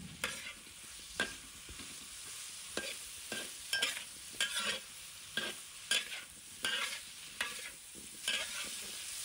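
Radish stir-fried in a wok over high heat with salt, soy sauce, oyster sauce and pepper, a soft steady sizzle punctuated by regular spatula scrapes and clanks about once a second.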